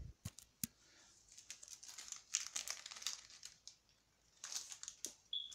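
Foil wrapper of a 2017 Topps WWE Road to WrestleMania trading card pack crinkling and tearing as it is opened, in quiet bursts of close, sharp rustles with short pauses and no talk.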